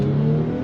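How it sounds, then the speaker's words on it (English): Engine of a used car at an auto auction test track under hard acceleration, a loud steady mid-pitched roar heard close up for a brief moment. "make sure I can hear the engine good, the car, the transmission, the differentials, and then I just punch it"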